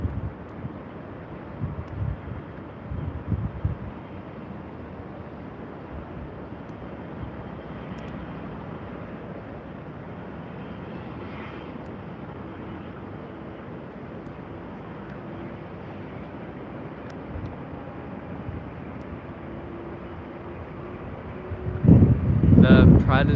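A PC-24 aircraft at an airport gives a steady, distant broadband roar mixed with wind buffeting the microphone, ending in a louder gusty rumble.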